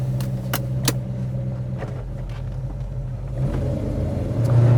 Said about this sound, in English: So let's drive it, see how it runs.